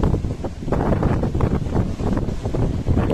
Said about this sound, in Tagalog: Sobrang hangin. Ang lakas ng hangin.